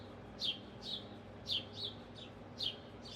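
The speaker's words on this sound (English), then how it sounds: "The birds just got really deafening for me." Birds chirping loudly near a porch, sharp high calls repeating in pairs at a rapid, regular pace over faint low background hum.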